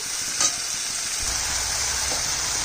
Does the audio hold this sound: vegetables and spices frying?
yes